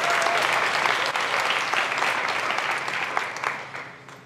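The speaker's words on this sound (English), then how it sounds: "A big round of applause for them for holding this event." Audience at a public school staff recognition event applauding food service staff, a dense, steady burst of clapping from a large crowd that gradually thins and fades toward the end.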